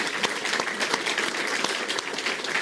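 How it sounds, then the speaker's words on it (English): Audience applause fills the room at a business interview event, a steady dense wash of clapping hands with no pauses, fairly loud and close throughout. "I think really that deserves a round of applause."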